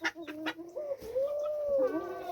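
A bearded d'Anvers bantam rooster gives a few short clucks, then a longer, wavering, tonal call, close by and fairly quiet, with no talk over it.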